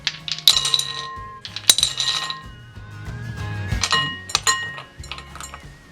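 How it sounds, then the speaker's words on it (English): Ice cubes clatter and clink into a large bowl in a kitchen, several bright separate drops and rattles over a few seconds, close and alone. "In a large bowl, add ice cubes."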